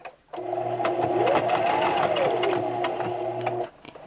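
A sewing machine stitches a fabric mug rug in one continuous, loud, close whirring run of about three seconds, its pitch rising and falling, then it stops abruptly.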